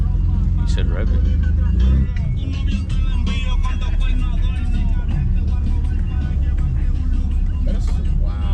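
An old-school Mercedes-Benz engine runs loudly and steadily at a car meet, its deep, continuous drone filling the whole stretch while people talk over it.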